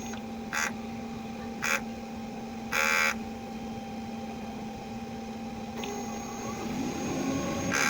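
A Sabli printer runs a print head cleaning cycle. A steady mechanical hum and whine carries through, with several short clicks and buzzes and a gradual rise in motor noise toward the end, close and moderately loud.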